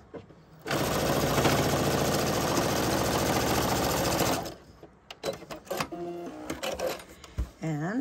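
A sewing machine stitching a knot on a quilt: a loud, steady, rapid whirring hum runs for several seconds, then stops, followed by scattered clicks and light handling noises.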